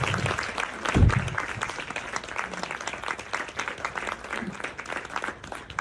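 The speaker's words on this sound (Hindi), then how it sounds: "भरपूर तालियां होनी चाहिए" Theater audience applauding at a theater festival performance, a dense wash of many hands clapping across the whole stretch, with a loud thump near the start and a steady, moderately loud level throughout.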